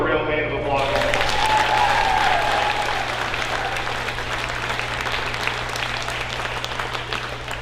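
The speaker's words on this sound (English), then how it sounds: "Can you all give her a real hand of applause?" Sustained crowd applause at a county 4-H awards ceremony, loud and steady at first and then slowly thinning out, following a brief moment of speech at the start.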